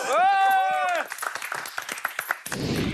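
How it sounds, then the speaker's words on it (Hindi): A studio audience applauds at a reality-game-show grand finale. A voice rings out for about a second, then scattered claps and crowd noise follow. "एक बार मेरी तरफ से भाई मिथ पैट के लिए ताली बजा दो।"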